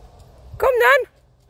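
A dog gives one short, loud bark during an outdoor walk, standing out sharply against quiet background noise.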